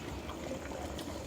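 Cooking oil is poured into a pan for tempering a bamboo shoot sambar, giving a steady, soft, even hiss that lasts the whole short moment, with no talk.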